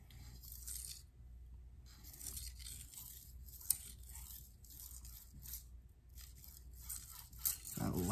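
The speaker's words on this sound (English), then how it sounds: "you can hear the crunch of that burr" Gritty burr crunching as a Wusthof Classic 7-inch Santoku is sharpened on a diamond plate, a steady rasping scrape repeating in strokes throughout, fairly close and continuous.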